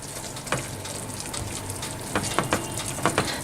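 Melted butter and flour cook in a pan with a soft, steady sizzle, broken by a few scraping stirs that grow more frequent toward the end.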